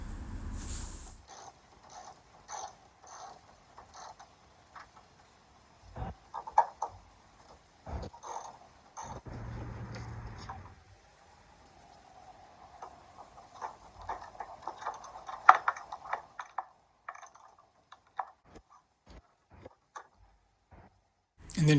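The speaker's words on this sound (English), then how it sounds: "And then I'm just going to put the 3 bolts in." A ratchet tightens the headlight housing bolts on a 2009 Saturn Vue, giving scattered bursts of quiet mechanical clicking with short pauses between them at close range.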